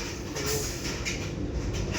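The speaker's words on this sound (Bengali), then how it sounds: "Bridge টপকাচ্ছি, Farakka bridge." A train rolls across the Farakka bridge, heard from inside a carriage as a steady, muffled rumble with faint rhythmic clatter of wheels, continuous and moderately loud with no talk.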